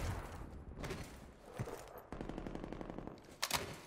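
AK rifle fire during a gunfight in Black Ops Cold War, several quick automatic bursts and single cracks, fairly close, with sharp shots standing out near the end.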